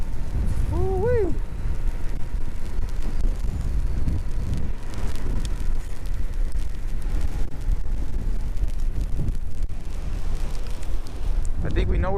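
Wind roars and buffets continuously during a slow, rainy ride on a Nanrobot D6+ electric scooter over wet, smooth ground. The rough broadband rush stays loud throughout, and a voice speaks over it.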